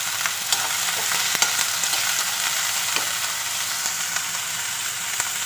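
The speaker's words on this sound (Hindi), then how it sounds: "थोड़ा सा फ्राई कर लेते हैं हरी मिर्च और प्याज को" Green chillies, onion and banana pieces sizzle steadily in a hot pan, a dense continuous crackle broken by occasional sharp pops and faint scraping of a stirring spoon.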